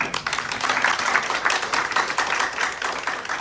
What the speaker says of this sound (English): Give it a round of applause just to give also a bit of energy